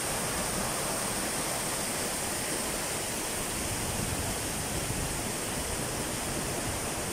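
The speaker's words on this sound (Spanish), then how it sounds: "Y ahí está la catarata del río Agres." Agres river waterfall in San Antonio de Escazú roaring steadily, a dense, loud, unbroken rush of falling water with no voices.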